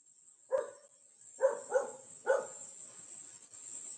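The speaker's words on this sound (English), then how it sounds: "sorry for the dog outside" A dog barks four times at a distance, one single bark then a quick cluster of three, against a quiet background with a faint steady hum.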